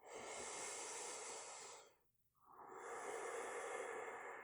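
Slow, steady breathing during a very gentle relaxation yoga practice: a long, soft airy exhale fades into a brief pause, then the next breath begins, close and calm with no talking.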